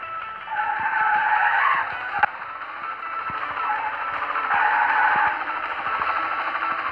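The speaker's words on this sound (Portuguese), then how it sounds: "Vai fazer um drift aí" Continuous tyre squeal from a car drifting in the Drift All Star video game, a steady sustained screech rising and falling over engine drone, with one brief sharp click.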